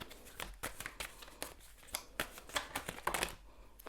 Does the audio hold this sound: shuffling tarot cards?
yes